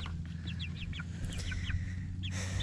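Chickens cluck in a quick series of short calls during a bath, over a steady low hum, moderately close, with a brief pause before a final cluck.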